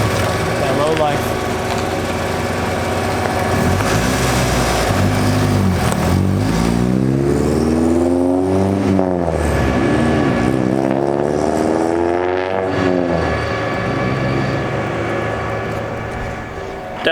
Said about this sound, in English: Definitely sounds like a Honda.